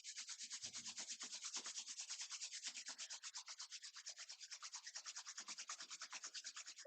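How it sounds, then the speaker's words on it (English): Two palms rub briskly together during a yoga session, a fast, even back-and-forth swishing that repeats dozens of times, close and soft. "Rub the palms against each other, generate Purja."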